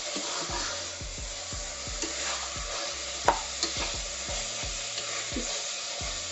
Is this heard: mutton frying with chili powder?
yes